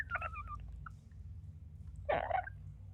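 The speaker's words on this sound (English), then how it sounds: "Kind of like weird chirping and squeaks." Weird chirping and squeaks: a quick run of thin squeaky chirps, then after a short quiet gap a louder, harsher squawking burst, all over a low steady background rumble.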